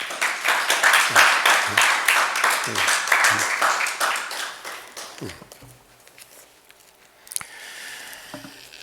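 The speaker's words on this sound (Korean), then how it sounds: "박수 한번 해드리십니다" Church congregation applauding after the founding pastor is welcomed, a dense burst of clapping that swells then fades over several seconds, followed by a brief room murmur.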